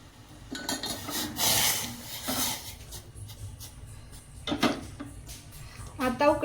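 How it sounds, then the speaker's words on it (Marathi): A spoon scrapes and clinks against a metal pot of boiling tea in a few stirring bursts, with someone talking over it. "आपण हा चहा एकदा हलवून घेऊया"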